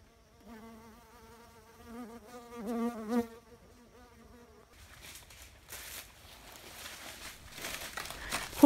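A hairy, round bumblebee-like bee buzzes close by in a forest, its steady wavering drone holding for several seconds before giving way to rustling and faint crackling.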